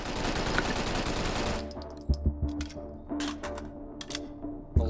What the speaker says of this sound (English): Celebratory gunfire.